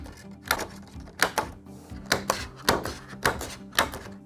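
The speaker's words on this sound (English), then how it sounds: "It punches out the little stars." A star-shaped paper punch pressed repeatedly through paper, a series of sharp close clacks and thunks at an uneven pace, about eight strikes with short gaps between them, and no voices.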